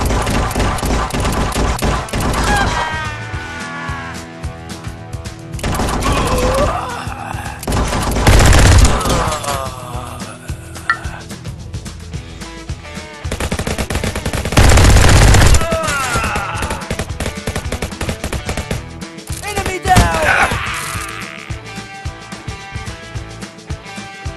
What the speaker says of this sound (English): Could revolvers really shoot like this?